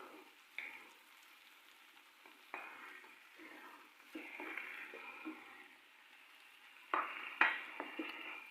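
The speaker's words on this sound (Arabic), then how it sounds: "غادي نخليهم يتشحروا حتى نلقى هذا الدجاج طاب" Chicken pieces fry in a pan with a soft, steady sizzle, broken by a few louder crackles and stirring scrapes, heard close with no talking.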